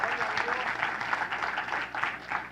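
Church congregation at the Iglesia de Dios Centro de Adoración Naco clapping loudly in praise, a dense, steady wash of hands with a slightly pulsing rhythm, close and sustained throughout.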